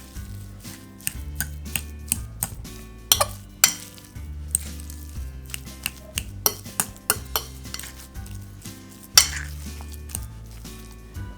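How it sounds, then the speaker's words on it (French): Boiled potatoes are mashed into a purée for mozzarella croquettes, with a metal masher knocking and scraping against the pot in repeated sharp clinks under steady background music. "je viens écraser mes pommes de terre pour avoir une préparation similaire à une purée"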